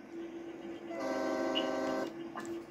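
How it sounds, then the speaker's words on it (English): A pickup truck in the Farming Simulator 22 video game sounds its fitted train horns, a loud sustained multi-tone blast lasting about a second over a steady engine drone, with a brief faint tone after it. "Oh my God, it's got train horns on it."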